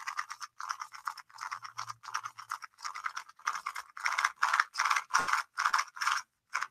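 Magnets clicking as a Gan 249M v2 speed cube, heavily lubricated, is turned by hand: a steady series of quick, close, crisp ratchety bursts with short gaps, growing louder and more forceful toward the end, with no talk.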